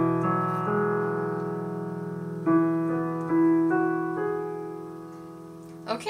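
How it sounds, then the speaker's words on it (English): Spaced-out chords played on a keyboard, each voicing sustained with clear harmonic stacks, changing a few times across the phrase of a cadence exercise, heard alone with no talking. "It's going to sound like this for the first 2 bars."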